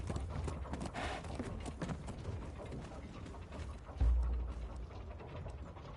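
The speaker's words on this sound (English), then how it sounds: "There's horses in the way." Horses walk with steady clip-clop hooves near stables in the video game Conan Exiles, a continuous shuffling rhythm with a heavier thud around the four-second mark and no talk.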